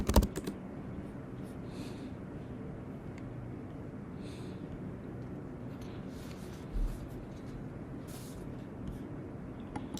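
A password is typed on a computer keyboard while PostgreSQL is installed on a Mac, giving a few faint, sparse key taps over a steady background hiss, with no one talking.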